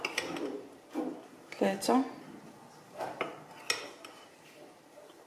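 Spoonfuls of flour go into a bowl for a layered vegetable cake, with several sharp spoon clinks and scrapes against the bowl at irregular intervals, close and fairly quiet, while someone speaks briefly.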